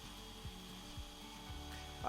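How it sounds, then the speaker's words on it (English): A dull drill bit grinds slowly into walnut wood in a woodworking shop, giving a steady close rubbing whine with low rhythmic catches and pulses roughly every half second, then a brief sharper squeal at the end. "I'm just going to try to get this super dull drill bit through the wood"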